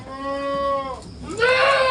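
A female goat that has not yet given birth bleats up close, with a long, wavering bleat followed by a short pause and a second, sharper rising cry.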